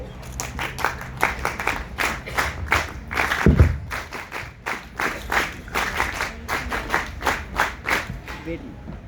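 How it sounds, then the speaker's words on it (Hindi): Audience applause at a Republic Day Parade Camp academic session in a stadium setting, many hands clapping steadily for about nine seconds with a brief thump partway through, close and fairly loud. "जोरदार तालियां हमारी मुख्य वक्ता और कैंप डायरेक्टर मैम के लिए।"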